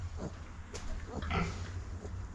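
Young piglet, a little boar, making soft grunts and snuffles close by, irregular and faint over a steady low background hum.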